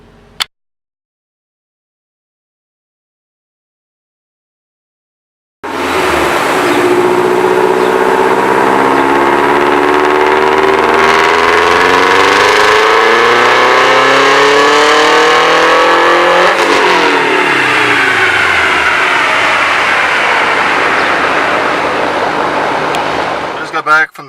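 A car engine drones continuously and loudly while driving, its pitch rising and falling with acceleration and gear changes after a few seconds of near silence, with faint voices at times.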